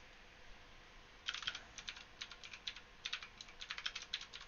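Rapid bursts of typing on a computer keyboard, a steady patter of light key clicks after a brief quiet start, with no voices.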